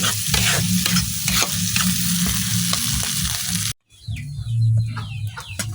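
Sidol jura, a Netrokona dish, sizzles hard in a pan as it is stirred, with repeated scraping strokes over loud frying. A brief silent gap is followed by more sizzling and stirring.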